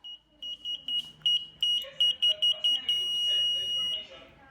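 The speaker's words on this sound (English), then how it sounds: "starting with the buzzer" A high-pitched electronic buzzer on a microcontroller-based patrol bike beeps in a quick run of short pulses, then holds one long steady tone before cutting off.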